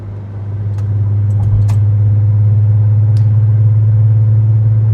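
A 2.8-litre VR6 engine idles steadily in a car, a low continuous rumble with a deep hum that swells slightly after the first half second and holds even and close throughout.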